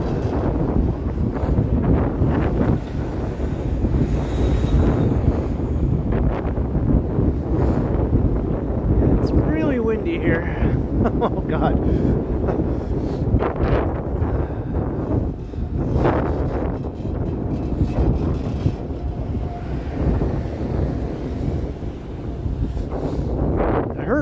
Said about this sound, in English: The wind is making my eyes tear up.